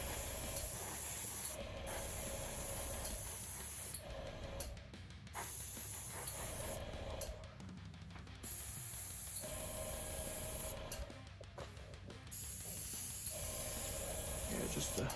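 Paint sprayed from an airbrush or can onto a Hasegawa 1/700 scale Zuiho aircraft carrier model kit: steady close hissing in several bursts with short pauses between, faint and unaccompanied by talk.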